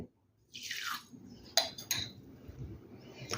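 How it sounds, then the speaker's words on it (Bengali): A spoon clinks and scrapes against a steel bowl while granulated sugar is stirred into water, with a few sharp metallic taps standing out over a soft, steady swirl close by. "চিনি ভালোভাবে গুলে নেব।"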